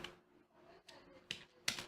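Keys tapped on a computer keyboard while entering HTML heading code, a few soft irregular clicks building to sharper strokes at the end, close and quiet, no talking.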